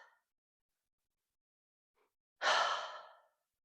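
A single deep, audible exhale during yoga, preceded by faint quiet breaths, close and alone in a still room.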